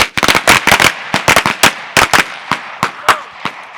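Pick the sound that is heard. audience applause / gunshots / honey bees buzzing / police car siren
gunshots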